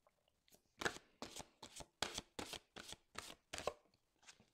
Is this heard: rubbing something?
no